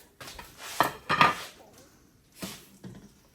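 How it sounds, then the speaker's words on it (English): Drained and rinsed cannellini beans, three cans' worth, tipped into a soup pot for ham and bean soup, giving a couple of close, loud clattering thuds and scrapes of metal and can on the pot rim, then a softer knock. "I'm going to add the 3 cans of cannellini beans that I've already drained and rinsed."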